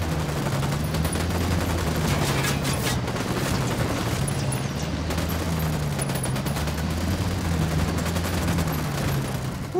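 Gunfire in the Ghost Recon Wildlands video game during an intense firefight with mortar attacks: dense, rapid, continuous bursts of shots, loud and sustained throughout, over a low droning game backdrop.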